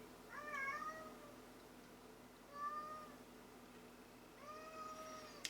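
A house cat yowls three times, drawn-out meows spaced a couple of seconds apart, close but fairly soft against a low steady indoor hum.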